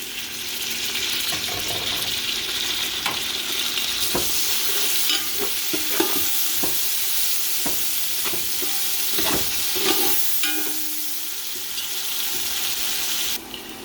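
Chopped tomatoes hit light-brown fried onions in a pan for chicken pulao, a continuous close sizzle broken by repeated spoon scrapes and clacks against the pan, no speech.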